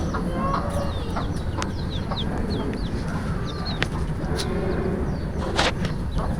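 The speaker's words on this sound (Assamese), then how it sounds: "মুৰ্গী" Domestic hens around a home clucking as they peck at paddy grain: repeated short clucks and chirpy calls come from close by over a steady outdoor background hiss.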